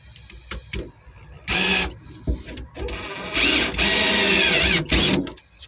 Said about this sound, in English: So we're gonna go ahead and try to get this drilled.